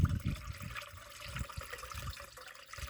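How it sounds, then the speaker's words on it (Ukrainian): Water rinses pesticide into a garden sprayer tank while apple trees are being treated, with gurgling, splashing pours in uneven bursts, heard close and fairly quiet, with no speech. "Все, водичка пішла вже чиста, вже препарат змився в бачок."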